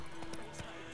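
Hooves of the horse Roach in the video game Witcher 3, a few soft clopping steps over a steady game background, with a voice nearby.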